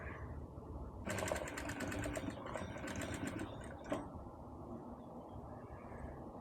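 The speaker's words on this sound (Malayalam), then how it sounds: "ഇവിടെ നമ്മൾ ജസ്റ്റ് ഒന്ന് ഫസ്റ്റ് ഒരു കുറച്ച് ഭാഗം ഒന്ന് സ്റ്റിച്ച് ചെയ്തെടുക്കുന്നുണ്ട് കേട്ടോ" Domestic sewing machine stitching a zip onto a baby's silk skirt and top outfit, a fast rapid-fire whir of the needle running for about three seconds, close and clear, with quiet room noise before and after.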